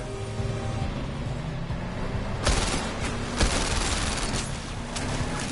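Gunfire in the VR game The London Heist, fired during a chase with a motorbike: a couple of sharp shots stand out over a dense, steady roar of engine and ambient noise.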